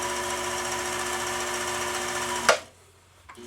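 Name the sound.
sewing machine sewing a wide zigzag stitch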